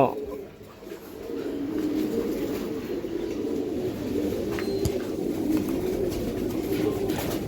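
Pigeons of an old breeding line coo softly and continuously at a pigeon farm, a low steady murmur of many birds under a voice speaking throughout.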